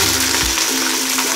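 Chopped onions and green chillies sizzle loudly in hot oil in a pan for a biryani, a dense close frying hiss with a faint scrape partway through.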